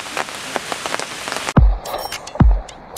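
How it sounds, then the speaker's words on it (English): Steady rain patters on surfaces outdoors at night, a dense continuous hiss, broken by two sharp, loud low thumps from an air gun being fired in the wet. "It's raining."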